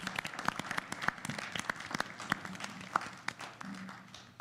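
Scattered clapping from a modest crowd at a town meeting, honoring the fire chief: sparse individual claps, uneven and not quite a full ovation, heard in a large room.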